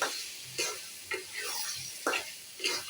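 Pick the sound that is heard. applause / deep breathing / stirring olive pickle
stirring olive pickle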